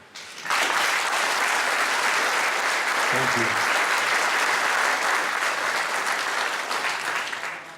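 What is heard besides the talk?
audience applause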